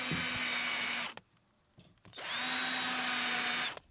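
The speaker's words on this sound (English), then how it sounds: "you can easily just countersink that hole" A power drill countersinks a hole in OSB sheathing on metal framing, with two loud, steady whirring runs of about a second each separated by a short quiet gap.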